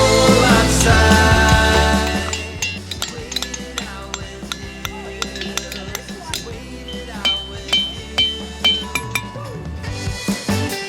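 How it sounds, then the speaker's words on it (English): Boulders struck lightly with a hammer ring with bell-like tones, heard as a run of bright, clinking strikes with resonant decays. The strikes come in an irregular, repeated rhythm and sound fairly close. "Struck lightly with a hammer. Each boulder gives off a bell-like tone."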